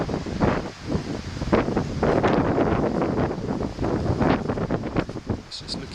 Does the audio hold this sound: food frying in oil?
no